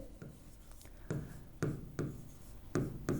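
A pen or marker writes on paper or a board during a Hindi maths lesson, giving a series of short scratchy strokes at irregular intervals, close and fairly quiet, with no talk.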